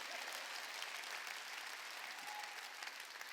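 A church congregation at a Sunday worship service claps together in dense, steady applause that holds at an even level throughout, with no voices over it.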